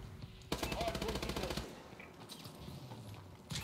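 Automatic gunfire in Call of Duty: Advanced Warfare during a Hardpoint match, a rapid burst of roughly a dozen shots lasting about a second, followed by quieter game sounds and faint talk.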